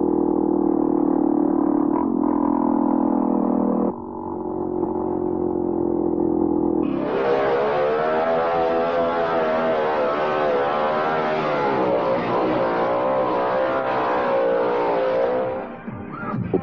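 Motocross motorcycles race along the Transamazônica highway in Brazil, a steady engine drone at first, then a louder, higher buzzing whine with shifting revs as the bikes push on, without speech.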